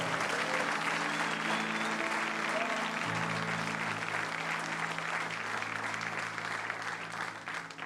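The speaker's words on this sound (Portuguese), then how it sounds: "Você pode aplaudir o Senhor?" A church congregation applauds loudly and continuously during a Portuguese-language service, a sustained crowd clapping with faint background tones beneath, easing off slightly toward the end.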